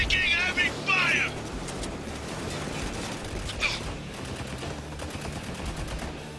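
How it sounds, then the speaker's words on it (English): Sustained heavy gunfire from the video game Spec Ops: The Line, a dense continuous crackle of battle noise with one sharper report partway through; a voice speaks briefly over it at the start. "Taking heavy fire."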